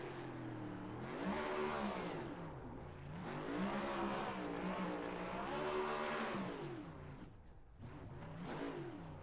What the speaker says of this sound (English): Probably the smoothest donuts burnouts I've seen in a while.